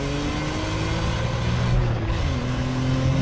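A BMW M3 E46 pulls hard in second gear, its engine note rising steadily and loud throughout with a constant rasp and rising pitch close by.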